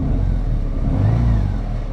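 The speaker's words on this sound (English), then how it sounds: "Engine sounds all right." A Harley Road Glide or Indian Challenger motorcycle engine runs steadily at close range, a loud low rumble with a slight rise in revs midway, with no talking over it.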